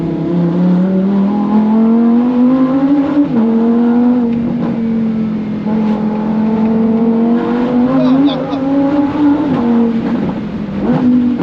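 A Lamborghini drives and accelerates on narrow roads, the engine's loud, close drone swelling and easing through repeated throttle changes, running continuously with only faint voices beneath.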